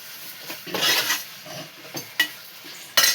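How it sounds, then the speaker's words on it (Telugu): Curry pieces frying in a pan, with a soft sizzle under repeated scraping strokes of a spoon and a few sharp clinks against the metal, close and fairly loud. "అంటే ఫ్రై చేస్తున్నాం కదా, అందుకని ఫ్రైకి కొన్ని ముక్కలు తీసేసాను."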